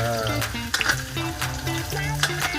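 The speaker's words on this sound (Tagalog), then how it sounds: "alam kong luto na itong carrots natin at potatoes, magigisa na ako guys" Cooked carrots and potatoes for beef mechado sauté in a hot pan, giving a steady close sizzle with stirring scrapes over background music.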